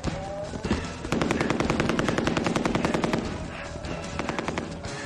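Rapid automatic gunfire rattles in sustained bursts for most of the stretch, loud and close, with video-game shooting aimed at the players as they climb a rope.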